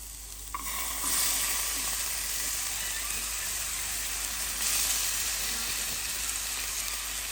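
Canned pinto beans hit a hot frying pan in an off-grid cabin kitchen and sizzle steadily, a continuous crackling hiss with light stirring, fairly close and unaccompanied by talk.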